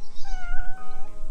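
A kitten meows loudly and close, one drawn-out plaintive cry that wavers in pitch over a low rumbling background, with no other voices.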